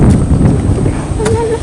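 Close, steady drone of a ketek motorboat carrying a motorbike across an Indonesian village river, mixed with wind buffeting, with someone talking over the engine.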